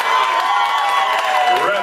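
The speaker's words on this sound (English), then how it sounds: "Ladies and gentlemen, clap your hands for both of the fighters on this stage" A crowd at an MMA fight night claps and cheers for both fighters in the cage, a loud, brief burst of mixed clapping, shouts and whistles.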